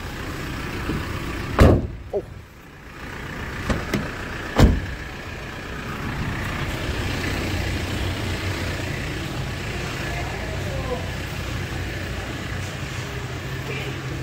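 Car engine warming up at idle: a low, steady hum running throughout, with a couple of sharp knocks or door thuds near the start, distant background sounds and a voice briefly speaking.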